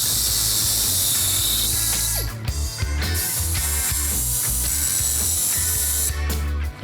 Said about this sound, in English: I'm gonna cut the U-bolts in half.